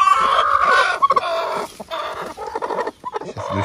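Brooding hens in a small farm coop cluck steadily and close by, with low throaty calls and short rising clucks overlapping throughout.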